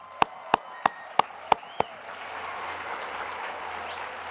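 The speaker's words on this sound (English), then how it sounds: "we should give a round of applause to everybody" At a 2019 high school commencement, six crisp, evenly spaced claps come from nearby, then a broader crowd applause swells in and continues as a soft, steady wash.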